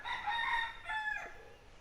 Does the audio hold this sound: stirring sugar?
no